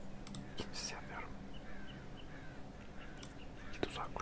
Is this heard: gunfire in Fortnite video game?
no